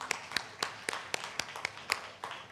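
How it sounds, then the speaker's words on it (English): Audience members at a MIHAS 2023 Knowledge Hub session clap in a sparse round of applause. About a dozen distinct claps come at an uneven pace, close and moderately soft, without a full roaring ovation. "A big round of applause for all of you"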